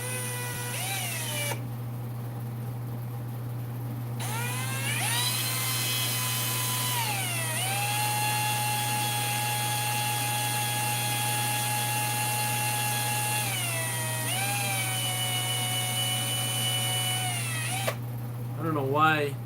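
Power drill boring steadily with a bit kept cool with oil in a home garage, a continuous whining drone that shifts pitch as load changes, with a constant low hum underneath.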